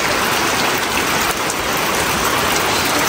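Heavy rain pours down in a dense, loud, unbroken roar of drops hitting surfaces nearby, with no pauses and no voices.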